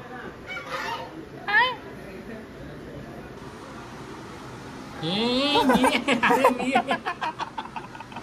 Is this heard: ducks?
yes